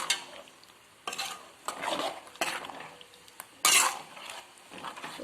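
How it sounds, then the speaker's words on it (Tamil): A spoon stirs poricha kuzhambu, a coconut-paste curry, in a metal pot, with irregular scraping and clinking strokes over a faint simmering sizzle, close and fairly quiet. "இப்போ எல்லாத்தையும் நல்லா கலந்து விட்டுட்டு நல்லா கொதிக்கணும்."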